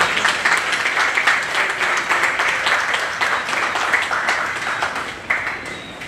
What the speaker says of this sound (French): C'est lui qui vous demande d'applaudir M. Rameau.